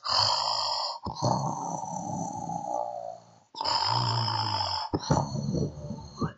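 A voice imitates men snoring: long rasping inhaled snores and grunting snorts, repeated several times with short pauses between them.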